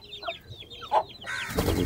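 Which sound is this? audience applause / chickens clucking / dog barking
chickens clucking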